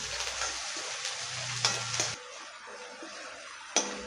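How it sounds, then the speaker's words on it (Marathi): Ginger-garlic paste sizzles in hot oil with lightly browned onion in a pan for a Konkani jackfruit-seed vegetable dish, a steady close frying hiss broken by a few sharp clinks of a spoon against the pan. "याच्यातच आपल्याला आलं लसूण पेस्ट घालायची आणि तीही अशी फ्राय होऊ द्यायची"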